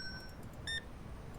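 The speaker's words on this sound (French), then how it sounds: "tout le long du rec, on va entendre bip parce que Ned dit des insultes." A short electronic censor beep cuts in midway through a Supermarket Simulator game session, a brief tonal bleep over a quiet, faint background.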